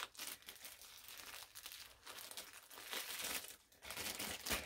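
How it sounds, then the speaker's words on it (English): Plastic wrapping crinkles and crumples steadily as it is pulled off a Paradise Galleries Baby Layla doll, a close, continuous rustling with sharper crackling bursts and no talking. "we'll go ahead and get the plastic off of her"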